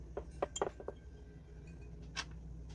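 Small glass beads clink and tick against each other as they are handled for an embedded gel wax candle, a quick cluster of bright taps followed by one more clink after a pause.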